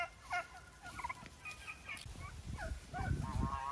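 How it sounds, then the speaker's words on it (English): Turkeys gobble and chatter at moderate distance, with scattered bird calls and some low rustling and movement noise in the background. "Naughty turkeys."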